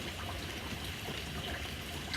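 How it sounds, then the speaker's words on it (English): Steady heavy rain falls outdoors, a dense, even hiss of water with light trickling, constant and fairly quiet throughout with no talk. "Pretty good sized rain we got going on here."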